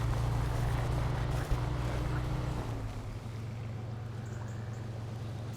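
A heavy truck reversing in all-wheel low gear in SnowRunner on Nintendo Switch: a loud, deep engine rumble that holds steady, then eases off and drops lower with scattered rough noise.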